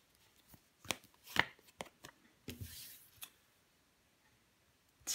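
Soft close-up handling of tarot cards: a few sharp flicks and slides as cards are shuffled and laid down on a table, irregular and quiet with gaps of near silence between them.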